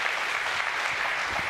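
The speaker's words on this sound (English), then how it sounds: "Let's give them a round of applause," An audience at a school launch event applauds, a brief dense burst of clapping heard up close and steady throughout.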